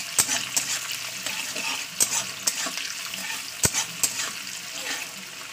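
Onions sizzle in oil in a cooking pan, a continuous close crackle with several crisp clacks and scrapes from a spatula stirring at irregular intervals.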